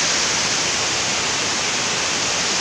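Water pours steadily over the waterfall at Wawa Dam, a loud, close, unbroken rush of white noise with no pauses or voices.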